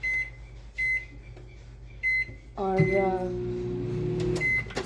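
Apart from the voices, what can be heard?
microwave oven beeping, set to speed defrost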